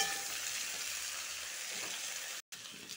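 Squash and potato pieces sizzle steadily in hot oil in a pan, a close, even hiss that drops out for a split second near the end, with no voices.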